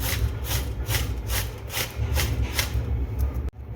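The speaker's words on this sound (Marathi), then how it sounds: "अशी किसणीने आपल्याला हळद किसून घ्यायची आहे" Fresh turmeric root grated on a hand grater in a home kitchen for pickle: fast, close, rhythmic scraping strokes that stop abruptly near the end, with no talking.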